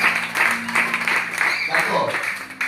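A church congregation applauds and claps steadily throughout, a dense wash of hands with some voices mixed in, moderately loud and continuous.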